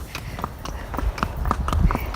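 A horse being walked clip-clops with a steady, even rhythm of hoof strikes, close and moderately loud over light background noise.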